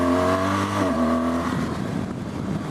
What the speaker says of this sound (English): You barely hear the engine once you're cruising along like this.